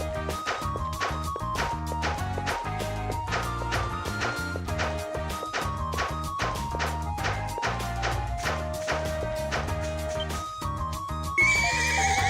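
In the video game Ys: Memories of Celceta, a horse neighs and whinnies over a steady, rhythmic clip-clop of hooves that repeats throughout at close range, loud and alone.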